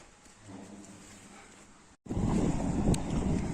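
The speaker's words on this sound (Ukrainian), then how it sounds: "Але такий вітер зустрічний" A headwind buffets the microphone while riding, a soft rush that turns into loud, rumbling gusts halfway through.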